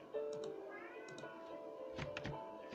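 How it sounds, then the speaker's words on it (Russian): A domestic cat meows several times in short, close calls, with faint background noise and no talk. "Да ну, это мой кот?"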